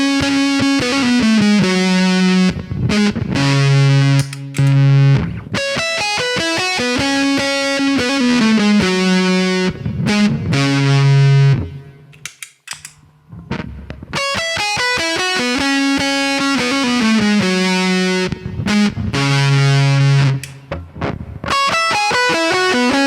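Electric guitar played through an Electro-Harmonix Triangle Big Muff fuzz pedal, loud sustained distorted high-register notes and melodic phrases with dense harmonics, a brief pause near the middle, no talking.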